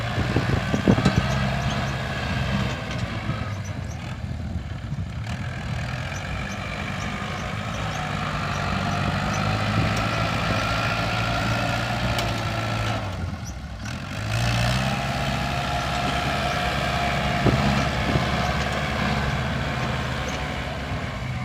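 A farm tractor engine runs continuously at close range, a loud, low diesel rumble that swells and dips, with a brief quieter stretch midway, and no talking.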